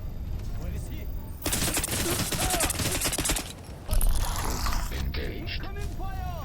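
Automatic gunfire in a Crysis Remastered firefight, dense rattling bursts with metallic mechanical clatter, loud and close, a sustained stretch followed by a heavier blast, with game voices calling out between shots.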